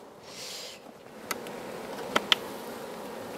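Honeybees buzz faintly around an open hive during a varroa mite inspection, a soft steady hum with a few small clicks and taps of handling nearby, no voices.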